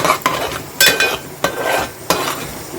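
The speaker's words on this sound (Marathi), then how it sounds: "परतवून घ्यायचं हे आपल्या मिरचीच वाटण आहे" Red chili paste sautéed in a pan for a pomfret thali, a spoon scraping and knocking against the pan every half second or so over a steady close sizzle.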